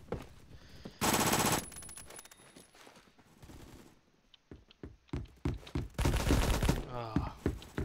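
Sharp bursts of automatic gunfire and scattered single shots from the video game Phantom Forces, loud and close, with two long dense volleys broken by quieter stretches.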